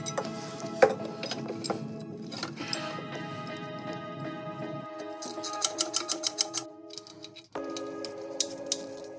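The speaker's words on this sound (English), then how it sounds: "you should really invest in this little Makita mini ratchet" Makita mini cordless ratchet tightening an exhaust nut on a Porsche 924 Turbo, a whirring motor with a steady mechanical ticking, then rapid clicking ratchet pulses close up as the nut seats.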